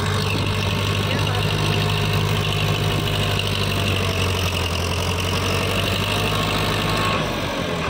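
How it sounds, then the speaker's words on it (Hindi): Powertrac Euro 55 4x4 tractor engine running steadily in medium two gear, a loud continuous low drone close to the microphone for several seconds before easing slightly at the end. "मीडियम टू में चल रहा है ट्रैक्टर इस टाइम"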